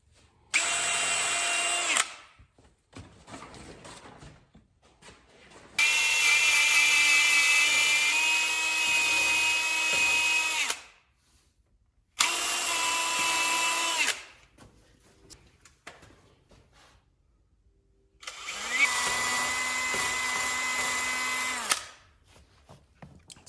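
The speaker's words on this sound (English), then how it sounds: "I'm gonna drill a hole in between each one of these studs all the way around" A power drill boring holes between wall studs while framing decorative columns. Four loud, steady whining bursts of a few seconds each, separated by quiet pauses, with no talking.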